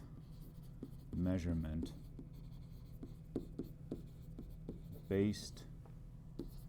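Pen writing during a classroom screencast, a faint scratching with small strokes under a quiet voice that speaks in brief stretches.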